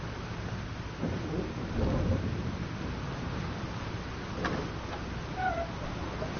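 A thunderstorm in the video game Life is Strange rolls on as a steady low rumble under a constant wash of rain-like noise, with a few fuller swells of thunder and a faint higher cry near the end.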